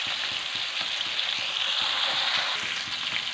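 Small fish frying in hot oil for a home-style fish fry, a steady, dense sizzle and crackle that fills the whole stretch at close range, with no voices.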